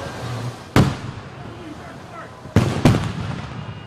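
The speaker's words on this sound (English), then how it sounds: "Flashbangs rock the neighborhood just before 7:30 Wednesday morning" Several sharp, loud blasts from police flashbang grenades set off in a residential neighborhood in Hawaii during an early-morning raid, one sudden bang followed by two more in quick succession over a steady background.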